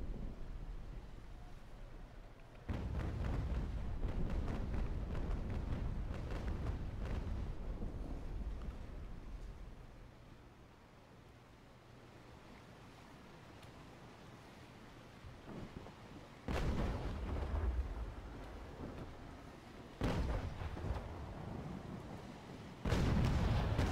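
Ship cannons in Naval Action fire in heavy, booming bursts over steady wind and sea noise, with several loud blasts spaced apart and quieter stretches between them.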